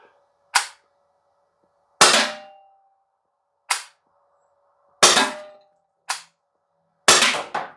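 Six sharp, loud shots ring out at irregular intervals from an Umarex T4E TR68 .68 caliber paintball revolver firing rubber balls, each crack followed by a brief ringing decay, with no talk.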